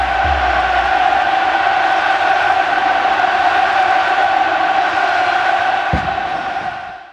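Atletico de Madrid football fans roar and cheer in a stadium, a loud sustained crowd din with chanting tones holding steady before fading near the end, one sharp knock cutting through.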